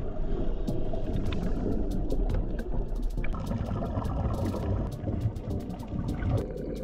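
Motorboat ride from Torrijos out to a dive site, with a steady engine drone and water rushing and splashing against the hull, continuous and fairly close throughout.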